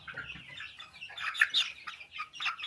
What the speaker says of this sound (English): It's a barred rock. I want to get my chicken.